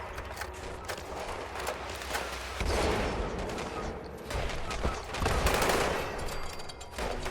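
Rapid gunfire in the Fallout 76 video game near Vault 79, with bursts of shots and clattering mechanical sounds layered over busy combat noise, swelling in intensity at a few points.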